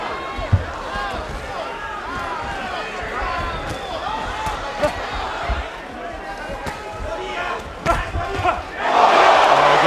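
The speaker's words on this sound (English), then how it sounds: "any little moment of success, greeted with astonishing support from the principally Hispanic crowd" A largely Hispanic boxing crowd roars continuously for Miguel Cotto during his fight with Yoshihiro Kamegai, with swelling cheers and shouts that surge louder at the end, under a commentator's voice.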